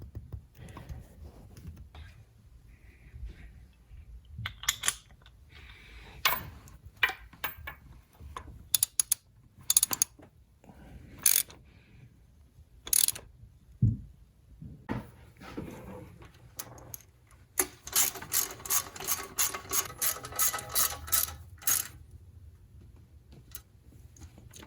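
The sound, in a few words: ratchet with 19mm deep socket on Nissan 300ZX engine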